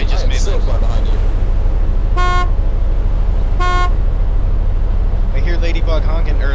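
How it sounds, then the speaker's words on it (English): Two short car-horn honks sound in the video game DayZ, evenly spaced about a second and a half apart, loud and clear over steady engine and wind noise, with players talking before and after. "I hear Ladybug honking, or the Al Haram honking."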